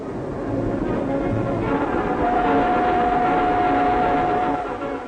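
An English train runs along the rails in 1943 wartime Britain, a loud, steady rolling rumble with a faint sustained tone partway through, and no talking.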